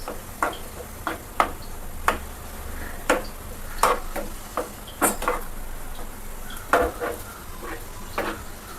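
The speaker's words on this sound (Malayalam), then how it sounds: "ഒന്ന് ഇളക്കി കൊടുക്കാം." Beetroot kichadi is stirred in a pan under a soft background sizzle, with a utensil scraping and knocking against the pan in irregular sharp clicks, repeated through the whole stretch, and no one speaking.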